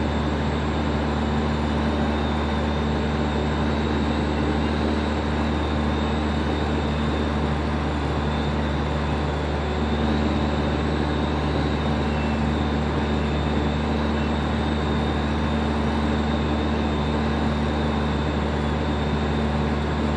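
Steady loud engine and propeller drone of a small airplane on runway 23, a continuous near roar holding for the whole stretch with no talk over it.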